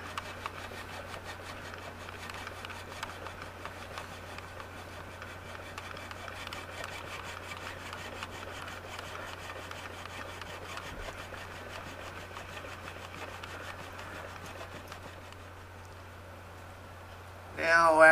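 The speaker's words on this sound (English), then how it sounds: "And now we're back to draw filing again. Use a 6-inch flat file here," A 6-inch flat file draw-filing a brass clock plate for a grasshopper clock, a continuous close rasping scrape in steady strokes over a low hum, ending in a short louder burst.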